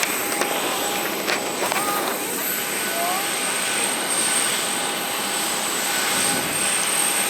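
A passenger airplane at Çarşamba Samsun Airport gives off a steady, broad jet-engine roar that fills the background evenly, with faint clicks and movement noises over it.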